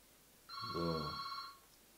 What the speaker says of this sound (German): Lasst euch nicht irritieren vom Telefon.